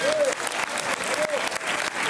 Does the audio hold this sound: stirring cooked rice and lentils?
no